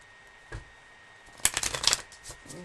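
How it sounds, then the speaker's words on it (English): A deck of tarot cards, Gilded Tarot and Romance Angels decks, is shuffled close by in a quick riffling burst lasting about half a second, with a soft tap just before it. "let's give them a real good shuffle"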